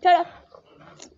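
A dog gives a short, sharp bark followed by faint whimpering sounds. It is close and brief, and a person is talking around it.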